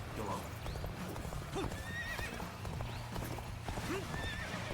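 A horse clip-clops at a gallop amid the battle noise of the video game Dynasty Warriors Origins, with steady hoofbeats, shrill neighs rising now and then, and people talking over it.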